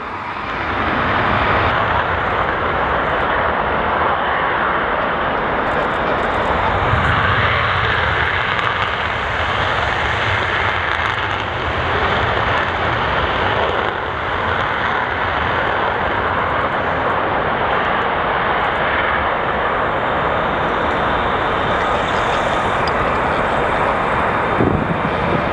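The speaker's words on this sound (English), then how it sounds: "the two remaining F-15s are just on approach now for landing." F-15 Eagle fighter jets on approach to land at RAF Lakenheath, a loud, steady broadband jet roar lasting throughout with no talk, near a road.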